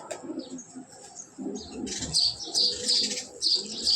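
Racing pigeons coo and chirp close by, soft repeated calls with bright higher twitters overlapping through the whole stretch.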